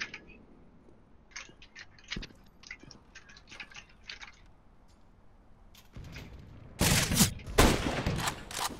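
Gunfire in the CS:GO video game: sparse single shots early on, then a dense, loud burst of rapid shots near the end with no talking.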